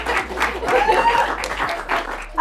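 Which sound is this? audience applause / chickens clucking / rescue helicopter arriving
audience applause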